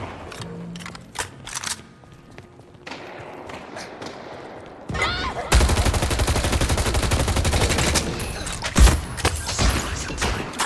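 Video game gunfire from a vampiric bullet weapon crackles in scattered shots, then turns into a dense, rapid barrage of shots and impacts that continues to the end.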